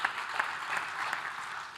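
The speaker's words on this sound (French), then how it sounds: "Que l'on applaudit très fort." Crowd applause at an award ceremony, a brief, moderately distant wash of clapping from the audience without voices on top.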